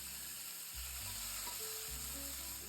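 Onions cooking in hot oil with ginger-garlic paste for a cauliflower dish, a continuous close sizzle and crackle with low rumbling underneath and no voices.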